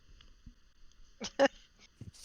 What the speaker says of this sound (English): She just burped.